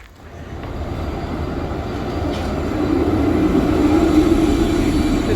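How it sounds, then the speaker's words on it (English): Steady rumble and rolling drone of a tram riding through Helsinki, a continuous low noise that builds gradually and stays loud, with no talking. "Now on the tram, and we're taking the tram down for about 8 minutes."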